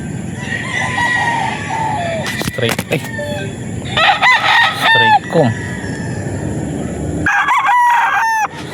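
A gamefowl rooster, a golden boy with a straight comb, crows loudly and close by several times in a row, with cackling and clucking between the calls.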